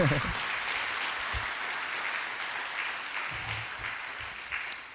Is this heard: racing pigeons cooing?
no